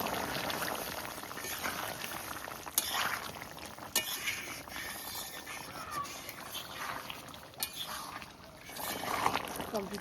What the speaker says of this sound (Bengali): টকবক করে মাংস ফুটবে, ডাক উঠে যাবে ঝোলের একদম